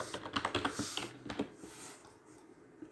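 Shift and number keys tapped on a computer keyboard, quick clustered clicks for the first half that thin out to a few scattered taps, close and fairly quiet.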